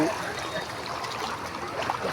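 Floodwater rushing along the Budhabalang river, a continuous churning, splashing flow heard close by and moderately loud, with faint voices in the background.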